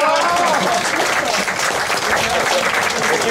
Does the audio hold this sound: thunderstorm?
no